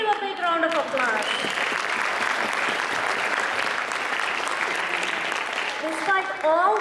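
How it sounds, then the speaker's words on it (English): Sustained audience applause at a community program honoring women volunteers in Houston fills the clip steadily and loudly, with brief speech at the start and end bookending the dense clapping. "So please give a big round of applause."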